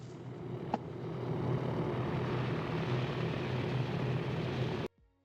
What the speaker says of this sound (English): Look at that biplane.